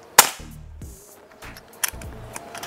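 A PCP double-tank Black AR air rifle fires with a sharp, loud crack and a short echoing tail, followed later by a second, quieter snap from the gun.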